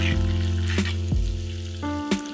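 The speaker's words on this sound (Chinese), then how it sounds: "再下豆瓣酱、干辣椒段、姜末、蒜末炒香" Chili bean paste, dried chili pieces, minced ginger and garlic sizzle in hot oil while being stir-fried, with a steady crackling hiss broken by a few sharp scraping strokes of the spatula.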